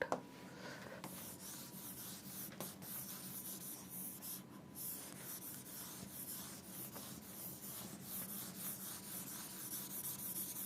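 Erasing on a board in a physics class, a soft steady rubbing and swishing that runs continuously at low level, close and quiet, with no voices.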